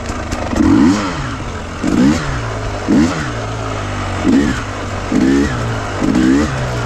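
A KTM TPI two-stroke motorcycle engine in first gear rises in pitch in about six short, loud, rhythmic bursts of acceleration, each falling back to a rough idle between them.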